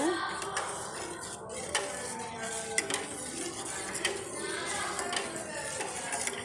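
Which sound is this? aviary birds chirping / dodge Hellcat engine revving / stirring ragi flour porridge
stirring ragi flour porridge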